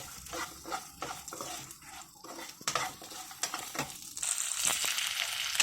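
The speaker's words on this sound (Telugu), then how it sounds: "ఇది ఇంకా కొంచెం వేగాలన్నమాట" Steady sizzling of ginger frying in a pan for chutney, with scraping stirs and occasional metal clinks, close and continuous.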